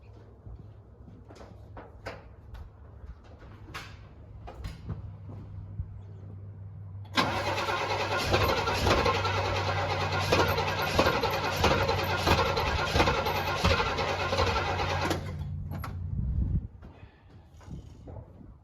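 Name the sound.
Pontiac GTO engine cranking and starting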